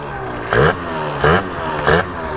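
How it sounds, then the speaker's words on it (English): A scooter engine fitted with a cheap performance exhaust, idling loud and close, then blipped three times in quick, evenly spaced revs that rise and fall. "It sounds so much different than any other time I've heard a Pliny carb."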